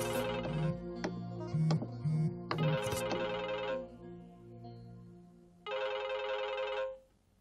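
A mobile phone ringtone plays loud and close as a repeating electronic melody in two bursts, with a short gap before the second phrase, and no voices.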